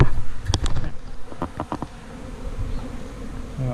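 A swarm of honey bees drones in a constant low hum, with several louder buzzes passing close to the microphone early on before the sound settles into a steady, fainter background drone.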